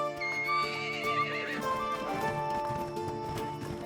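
A horse in ARK Survival Ascended gives a loud, quavering whinny that rises and falls, followed by scattered hoof clops and rustling, heard close with no talking.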